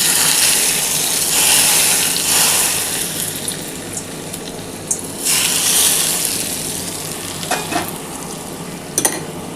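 Warm mustard oil poured over a hand-mixed soybean and potato dish gives a loud, close, hissing pour with wet sizzling and splashing that ebbs and flows, plus a few sharp clicks near the end.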